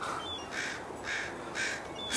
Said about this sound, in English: my neighbor behind me apparently feeds the crows or the squirrels or something, and then like all these birds just flock to their house